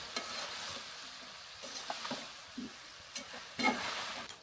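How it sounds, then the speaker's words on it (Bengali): Vegetables for a fish curry fried in a pan, giving a faint, steady sizzle punctuated by a few soft stirring scrapes and clicks, with no speech. "সবজিটা আমি 2 থেকে 3 মিনিট ভুনা করে নিব।"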